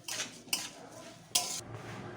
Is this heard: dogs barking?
no